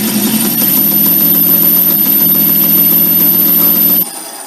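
A metal lathe takes a heavy cut, giving a loud, steady low mechanical drone with a faint rhythmic throb, which drops sharply in level near the end.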